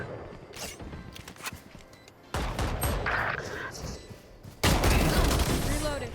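Gunfire in the tactical shooter Valorant, with bursts of shots and mechanical clicks building to a louder, denser volley near the end, mixed with game ambience and some voice.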